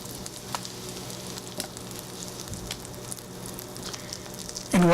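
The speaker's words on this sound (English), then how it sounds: "And what we're going to do is to melt our butter here." Butter melting in a hot pan with olive oil for shrimp scampi, a soft steady sizzle with a few light pops, ending in a sudden louder clatter.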